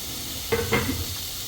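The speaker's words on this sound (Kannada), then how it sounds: "ಈರುಳ್ಳಿ ತುಂಬ ಕೆಂಪಾಗೋ ತನಕ ಫ್ರೈ ಮಾಡ್ಕೊಳ್ಳಿ" Sliced onions with Byadgi and red chillies sizzle faintly in a pan, a steady hiss with a few brief stirring scrapes of a utensil, no talking.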